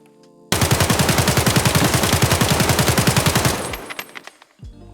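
Automatic fire from an AK74M rifle fitted with a 60-round magazine in Escape from Tarkov, a long rapid burst of roughly thirty loud, evenly spaced shots that stops abruptly, leaving brief echoing tails.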